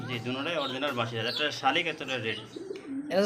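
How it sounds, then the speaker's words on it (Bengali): Koka and Chunchuni pigeons coo softly at a pigeon sale, their low murmurs sitting beneath steady nearby conversation throughout. "দেখতে পাচ্ছেন চমৎকার একজোড়া ককা কবুতর অরিজিনাল ককা দেখতে পাচ্ছেন চুনচুনি কবুতর"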